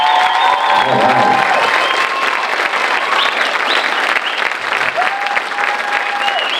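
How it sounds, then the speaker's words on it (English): Loud, sustained applause mixed with some cheering from a crowd at a data center awareness event at the Rhode in Kenosha, with voices and whoops rising through the clapping. "Either those are real big applause"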